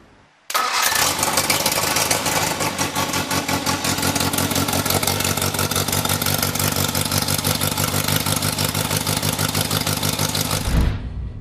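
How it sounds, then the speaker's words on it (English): A small car engine on a running-in stand fires up abruptly and settles into a loud, steady, fast-pulsing run close by for about ten seconds before cutting off near the end. "This little engine's on a running in stand, so we can now fire this engine up, run the camshaft in"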